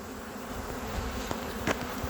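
A small honeybee swarm of two or three frames' worth of bees hums in a dense, continuous buzz close by, with a few individual bees flying past more loudly.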